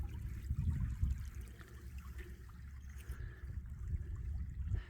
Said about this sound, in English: You can see the water running out still.